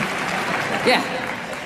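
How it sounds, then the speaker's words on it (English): An audience at a stand-up comedy show applauds, a dense steady clatter of clapping throughout, with a brief voice rising above it. "And you're applauding my wife."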